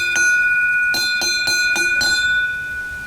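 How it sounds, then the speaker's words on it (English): A bear bell rung along the forest trail to Tsumago, struck about six times in an uneven run of bright, sustained metallic rings close by, each tone overlapping the last and fading at the end, with no talking. "There's another bear bell."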